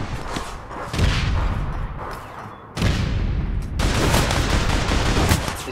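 Rapid bursts of gunfire in the video game APB Reloaded, dense automatic shooting in two long volleys split by a brief lull, loud and close with no voices.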